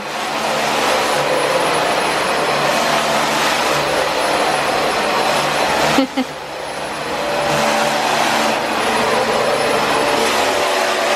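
A household vacuum cleaner runs steadily at close range during home cleaning, a loud continuous whine and roar that holds for the whole stretch with only a brief dip and knock partway through.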